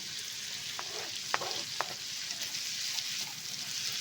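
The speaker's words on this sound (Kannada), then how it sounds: "ಈರುಳ್ಳಿ ಫ್ರೈ ಆಗ್ತಾಯಿದೆ." Onions fry with curry leaves and green chillies in a pan for a prawn fry, giving a steady, moderate sizzle. Three brief stirring clacks break in early, then the frying carries on alone.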